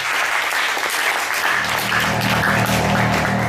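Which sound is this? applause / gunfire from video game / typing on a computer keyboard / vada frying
applause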